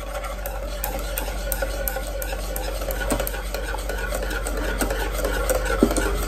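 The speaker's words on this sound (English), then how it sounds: "Whisk it a little bit longer for a few more minutes." Eggnog mixture being whisked in a pot on the heat until it thickens, a steady run of rapid light taps and scrapes against the metal over a constant low hum.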